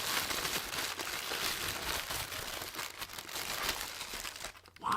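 Plastic toy packaging from a McDonald's Minecraft meal being torn open, a close, continuous crinkling and rustling with irregular crackles for several seconds and a brief pause near the end, no speech.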